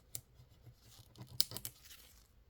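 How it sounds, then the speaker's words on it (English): Scissors snip through a thin piece of cured resin in a few quiet, crisp cuts with faint crinkling between them, close by and alone. "where I can take my scissors now, carefully snip that out."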